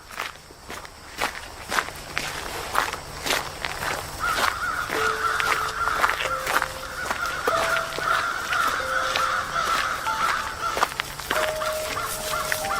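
Many repeated caws from a crowd of crows gathered in a large tree behind a house, mixed with footsteps and a bright melodic music tone throughout.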